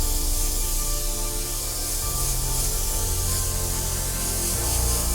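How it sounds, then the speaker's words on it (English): An airbrush sprays red paint in freehand sketching strokes over a soccer ball design, a continuous airy hiss running close and steady with a faint mechanical hum beneath. "I'm just doing some sketching with my airbrush."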